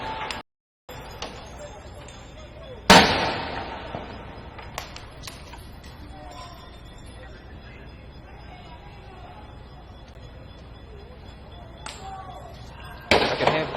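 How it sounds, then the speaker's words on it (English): Explosions and crashing noises ring out during street unrest in Venezuela with police advancing, including sharp loud bangs and scattered cracks over a constant rumble of distant crowd noise. "I can hear breaking glass, explosions, gas."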